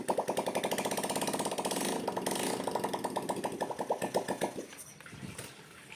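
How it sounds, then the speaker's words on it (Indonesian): A Honda Beat or Vario scooter engine, just rewired, fires up and runs with a fast rhythmic chugging pulse, close and steady, before cutting out near the end. "kita tes dulu dinyalakan motornya sudah bisa nyala atau belum"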